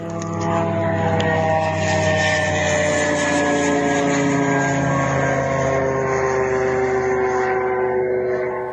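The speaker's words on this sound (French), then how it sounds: "Voici donc le drone qui a frappé la République des Komis sur donc un drone ukrainien dans le ciel russe ce matin." A Ukrainian Lyuti drone flying in the sky over Russia, its propeller engine droning loud and steady with a slowly falling pitch as it passes, continuous for nearly nine seconds with no voices.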